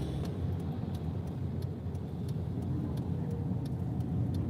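A truck's engine runs with a steady, loud low rumble and road noise, heard close and continuous without any talk.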